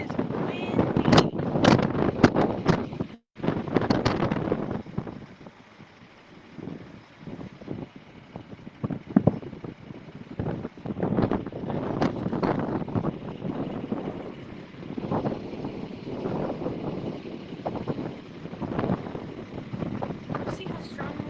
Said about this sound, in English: See how strong the wind's pushing through here?